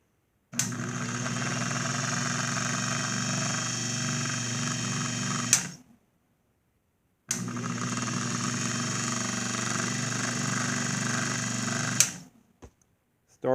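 A 1954 Chevy starter motor spins on a bench test in two steady whirring runs of about five seconds each, loud and close, each cutting off abruptly, with a brief rattle at the end.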